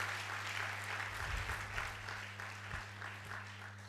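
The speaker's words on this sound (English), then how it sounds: "Let's give him another round of applause" Audience applause at a medical and dental induction ceremony, a soft, distant patter of clapping over a steady low hum, fading slightly toward the end.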